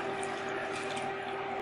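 Water runs steadily from a faucet for under two seconds, a continuous close hiss with a faint tonal whine, heard alone with no voices.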